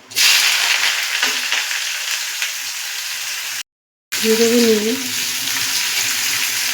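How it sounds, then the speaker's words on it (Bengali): Onions sizzle hard in hot oil with dried red chilies and black cumin tempering, a loud, steady frying hiss for a lentil dal, broken by a brief gap, with a voice speaking near the start. "নুন দিয়ে এটাকে ভাজা ভাজা করে নেব।"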